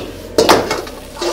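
Rice clatters and scrapes against a pan as it is stirred and fried with white pepper and light soy sauce, a sharp metallic knock followed by a run of short utensil strokes, close and fairly loud.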